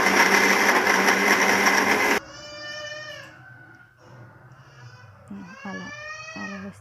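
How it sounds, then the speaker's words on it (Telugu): A mixer grinder roars loudly for about two seconds, grinding soaked rice with jaggery, then cuts off and a voice is heard talking afterward. "బియ్యం బాగా మెదిగిన తర్వాత బెల్లం వేసి మళ్ళీ గ్రైండ్ చేస్తే అప్పుడు ఈజీగా ఉంటుంది"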